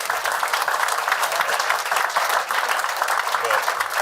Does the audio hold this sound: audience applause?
yes